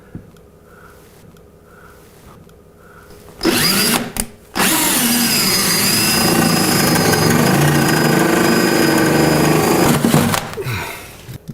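A power drill bores a hole through a cabinet for a microwave plug: after a few quiet seconds of faint handling, a loud, harsh grinding whine starts, cuts out briefly, then runs steadily for about six seconds before stopping.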